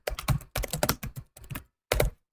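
Bursts of quick, close clicks from typing on a computer keyboard, a few rapid clusters separated by short pauses.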